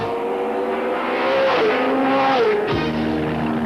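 V8 race cars roar past at Jennerstown Speedway, loud and close, with engine pitch sweeping down as they pass and a brief tire squeal near the end.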